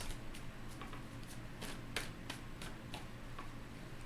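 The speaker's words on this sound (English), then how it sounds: "3 more shuffles." Quiet, regular flicks and riffles of cards being shuffled, a series of short crisp taps in a steady rhythm over a soft background hum.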